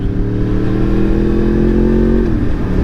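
A motorcycle engine drones steadily and loudly close by while riding, holding a constant pitch and then dropping slightly in pitch near the end.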